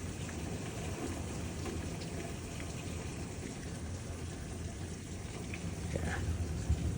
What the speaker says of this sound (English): I know it's raining really hard.